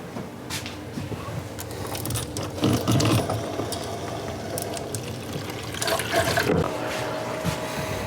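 Cooling water rushes steadily through a plate chiller's pipes and fittings during beer brewing, with clicks and mechanical clanks over the flow, close and continuous with no talking.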